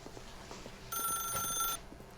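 A telephone in the video game The Stanley Parable rings in one bright, electronic burst of just under a second, loud and close, set against quiet background sound with no talking.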